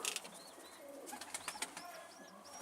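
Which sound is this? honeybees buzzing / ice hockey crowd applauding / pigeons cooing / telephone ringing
pigeons cooing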